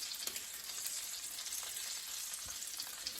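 A hake fillet fries skin-side down in a hot pan with a steady, close hiss and crackle and a few soft sharper pops, with no talking.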